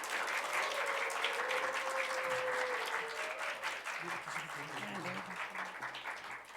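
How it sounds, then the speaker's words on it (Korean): A church congregation of about 2,000 at a Sunday service gives big applause welcoming a guest speaker to the front, a dense roar of clapping from the hall with a voice talking over it. "크게 박수로 환영해 주세요"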